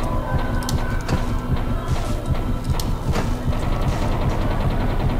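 A train rumbles steadily in the horror video game Cry of Fear, a dense, continuous low roar with faint rattling and clicking layered on top, loud and filling the whole stretch without speech.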